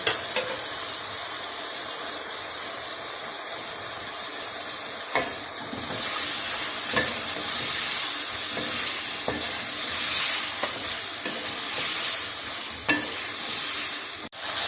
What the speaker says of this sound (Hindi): चिकन हमारा फ्राई हो रहा है। अब मैं आलू डालने लगी।